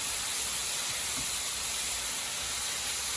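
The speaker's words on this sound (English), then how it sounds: "we're going to cook these down until the oil kind of separates from the mushroom" Mushrooms sautéing in oil in a pan, shrinking as their moisture cooks off, give a steady, dense sizzling hiss that stays even and fairly close throughout, with no talking over it.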